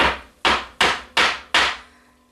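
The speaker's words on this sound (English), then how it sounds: "and taking my hammer" A hammer strikes a metal setting tool five times in a steady rhythm to flatten a fastener on a winter jacket, each blow loud and close with a short ringing decay and no talk.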